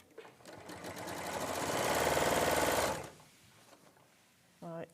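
Sewing machine stitching fabric pieces together in one continuous buzzing run of about three seconds that swells and stops, followed by quiet room tone and a brief voice at the end.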